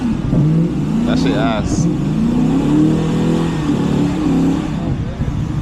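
A BMW M550 revs hard with one wheel spinning, its engine droning loud and steady throughout while a person talks briefly over it near the start.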